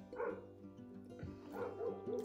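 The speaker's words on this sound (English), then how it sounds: "Sorry about my dog barking." A dog barks indoors, a few distinct woofs and yips with a whimpering edge, moderately close, separated by a pause and with no talking over them.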